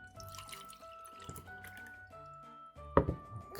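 Water poured into a 3D-printed coffee mug during a watertight test, with soft trickling and dripping building to a louder splashy pour near the end, no talk over it.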